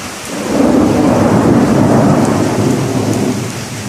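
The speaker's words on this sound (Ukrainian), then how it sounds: "вітер починає дуже сильно дути. Дощ, звісно, йде" Heavy rain pours steadily while strong gusts of wind roar and swell, loud and close, with no voices.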